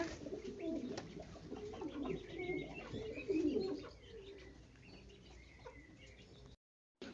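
Low, soft pigeon cooing from several birds in a dovecote in the rain, repeated throughout, with faint chirps and a quiet outdoor hush; the cooing fades toward the end.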